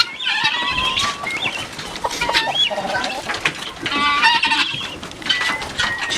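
A flock of chickens and guinea fowl clucks and calls close by in a farmyard, busy overlapping chatter with occasional louder squawks throughout.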